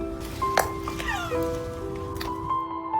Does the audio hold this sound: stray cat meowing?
yes